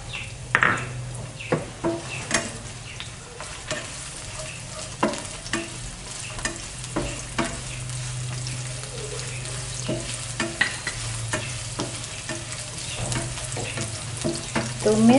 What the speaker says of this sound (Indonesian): Sekarang kalau sudah panas minyaknya, tumis dulu bawang bombay.